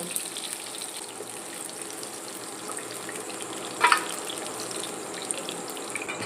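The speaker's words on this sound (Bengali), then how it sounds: "এবার পকোড়ার মতো সব আমি ভেজে নেব" Chicken pieces deep frying like pakoras in hot oil, a steady close bubbling hiss that holds throughout with one brief clatter midway.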